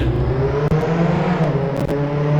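Car engine in a Roblox driving game holds a steady, loud drone with a constant low hum and faint whine, running continuously as the vehicle drives off.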